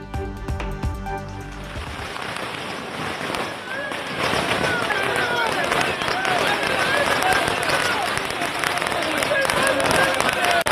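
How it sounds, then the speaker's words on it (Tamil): Firecrackers burst at Anna Arivalayam in Chennai as DMK party supporters celebrate, dense crackling pops over a noisy cheering crowd, loud and continuous, with shouting voices throughout. "சென்னை அண்ணா அறிவாலயத்தில் பட்டாசு வெடித்து திமுக தொண்டர்கள் உற்சாக கொண்டாட்டம்."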